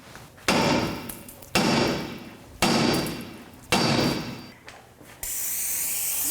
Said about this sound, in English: So I'm just going to take a hammer.